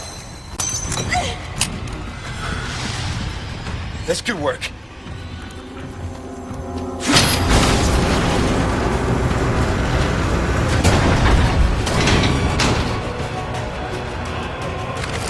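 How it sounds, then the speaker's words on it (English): Heavy smashing hits on a cannon-raising mechanism in the video game Resident Evil 4 (2023): several loud impacts spaced seconds apart over rumbling game ambience, and someone speaks briefly. "you smash this thing in order to bring the cannon up"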